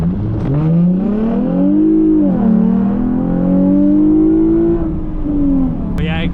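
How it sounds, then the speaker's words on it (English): A sport sedan engine revs up and down loudly and close while downshifting, pitch climbing then dropping through blips between gears, ending in a sharp click. "Downshifts are fun in this car. They sound pretty good."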